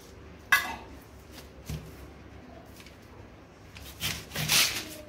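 An oiled knife cuts into a raw, unripe jackfruit in a home kitchen, giving a few scraping, rasping strokes against the fibrous rind, with a louder grinding run near the end and quiet gaps between.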